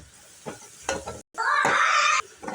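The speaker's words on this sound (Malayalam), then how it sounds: "മുളക് പൊടി നല്ലോണം മൂത്ത് വരുന്ന പോലെ ഒന്ന് ഇളക്കി കൊടുക്കുക." Chili powder fries and is stirred into a beetroot curry in a pan, with scraping stirs giving way to a loud, steady sizzle that cuts off abruptly, then brief stirring resumes.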